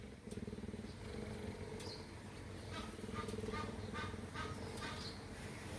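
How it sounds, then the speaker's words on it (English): A cheetah purrs in a low, rhythmic rumble with regular pulsing beats, quiet and close, while faint clicks and scattered noises sound around it. "You can hear him purring."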